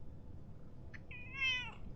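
A cat gives one clear meow close by, with a faint short chirp just before it, over a quiet low background hum.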